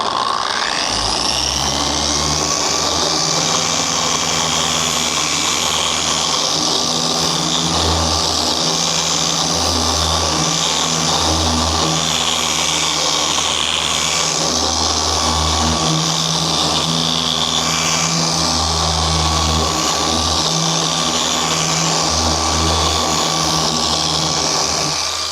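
A power sander wet-sands truck paint with a 2000 grit pad under a water mist, running continuously for the whole stretch as a loud steady whir with a pulsing low drone, close by.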